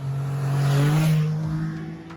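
A sporty trike accelerates hard, its engine note rising and roaring loud and close for about two seconds before easing off, with no talking.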